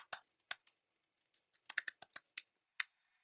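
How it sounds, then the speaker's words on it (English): A folder name typed on a computer keyboard, with quiet, scattered keystrokes in short bursts and brief pauses, close and soft. "I can type here."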